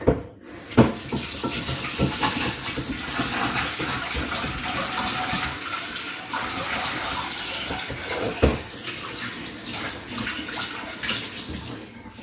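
Rice is washed in a kitchen sink under a running tap, with a steady splashing stream and intermittent clatters of the pot and grains being stirred, close and fairly loud, with no talking.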